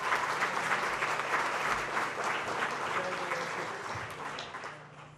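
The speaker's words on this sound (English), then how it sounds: "Nice round of applause" An audience at a YMCA appreciation dinner gives a steady round of applause, dense clapping that holds evenly for several seconds and then begins to taper off.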